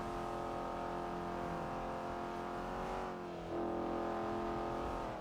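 Sledge Diesel engine humming at speed, a loud steady harmonic drone with a slight dip and then a step up in pitch and level near the end.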